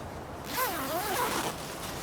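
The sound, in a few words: zipper being opened on a Swagman Roll bedroll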